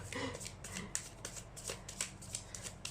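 Tarot cards being shuffled by hand, a run of quick crisp riffling bursts repeating close up with no one talking.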